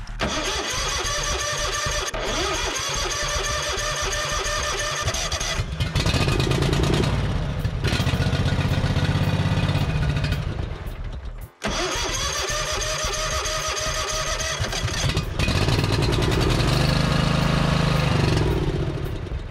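Lawn mower engine out of fuel being cranked over and over, a loud, close, continuous grinding churn that keeps turning without catching, with a brief pause midway before cranking resumes.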